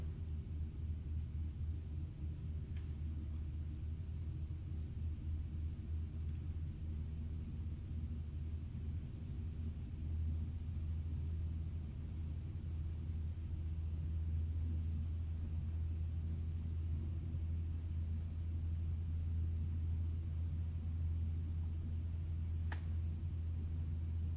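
A Beechcraft King Air 200 in a flight simulator back-taxis at Staniel Cay, giving a steady, unbroken low engine rumble and drone throughout, with no voices.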